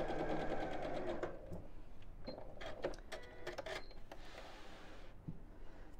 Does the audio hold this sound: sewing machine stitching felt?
yes